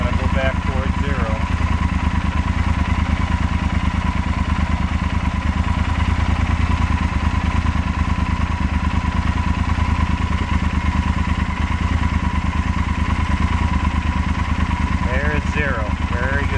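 A Yamaha Super Tenere motorcycle engine idles steadily at close range, a constant low drone throughout with no revving, while a vacuum-gauge harmonizer is used to balance its throttle bodies.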